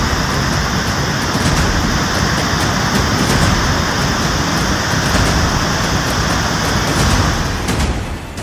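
Heavy monsoon rain pours over the Himachal mountains, where swollen rivers are flooding after a cloudburst. A loud, continuous roar of rushing water and downpour fills the scene without a break, and no voices are present.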